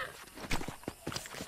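Horse hooves clip-clop in the video game Red Dead Redemption. The steady, fairly quiet thuds play under a busy game background with no voice.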